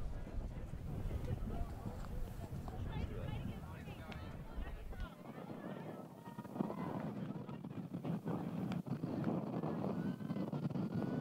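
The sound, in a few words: wind blowing straight into the camera microphone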